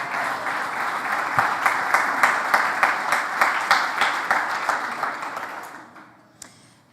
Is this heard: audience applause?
yes